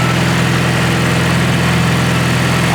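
A Honda K-series engine swapped into a Nissan S14 idles steadily and loudly up close, a constant low rumbling hum with no talk over it.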